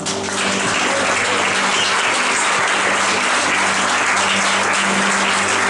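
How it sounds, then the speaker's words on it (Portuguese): Congregation applauding during a church service, a loud, sustained roar of many hands clapping together with a low hum of music or organ beneath, continuous and close. "Você pode aplaudir o Senhor?"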